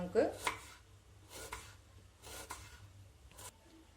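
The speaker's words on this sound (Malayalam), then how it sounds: "സവാള നീളത്തിൽ തിന്നായിട്ട് കട്ട് ചെയ്തെടുക്കാം." Knife slicing an onion thinly lengthwise on a board, four or five soft, evenly spaced cuts heard up close in a quiet room.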